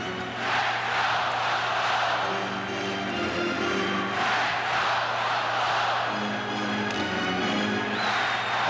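A hockey arena crowd in a Buffalo Sabres versus Dynamo Moscow game roars and applauds in sustained swelling waves, loud and continuous, with an announcer's voice faintly underneath.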